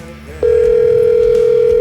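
A steady telephone line tone starts abruptly after a short bed of background noise and holds at a constant pitch as a call connects on a phone system, loud and continuous to the end.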